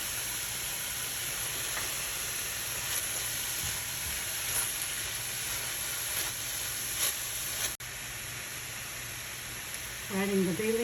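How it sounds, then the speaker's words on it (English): Ground meat and vegetables sautéing in a pan for moussaka, with salt and pepper added: a steady, close hiss and sizzle runs throughout, with faint stirring clatter and a brief voice near the end. "so they saute with the meat, the ground meat."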